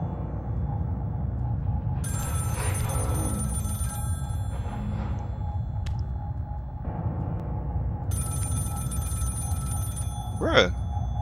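A telephone rings from inside the walls in Scream: The Game, repeated trilling bursts in a steady on-off pattern, muffled and moderately loud, with brief game sounds between rings.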